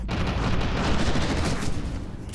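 A dense burst of gunfire in the first-person shooter game F.E.A.R. 2, loud and continuous with a heavy booming low end that tails off slightly at the end.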